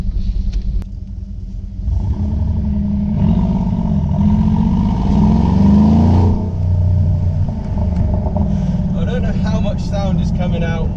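A 720 hp Mercedes G63 engine revving, deep and loud with a rising rumble that swells in the middle and then settles, heard from close by with some voices over the top.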